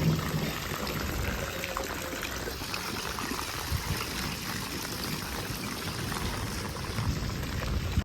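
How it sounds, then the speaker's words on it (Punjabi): Steady, dense rain pours down close by on a flooding street, a continuous broadband wash of water with no voices. "ਲੋ ਵਾਈ ਫੁੱਲ ਮੀਂਹ ਪੈ ਰਿਹਾ"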